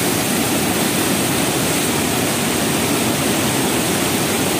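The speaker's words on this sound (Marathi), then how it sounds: "भयानक असा पूर आलेला आहे" Roaring floodwater of the Godavari river in spate in Nashik district, a steady dense broadband rush filling the whole clip at constant loudness, no voices.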